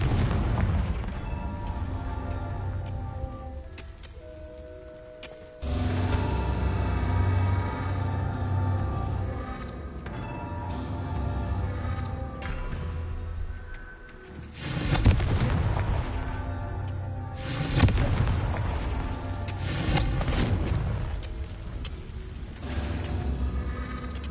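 Repeated Confringo spell explosions from Hogwarts Legacy, several loud booming blasts spread over about twenty seconds, each with a heavy rumble, heard over steady game music with no talking.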